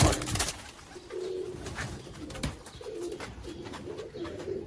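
Pigeons coo in repeated low, rolling phrases at close range, several bursts spread across the stretch with some rustling and background noise, no talk.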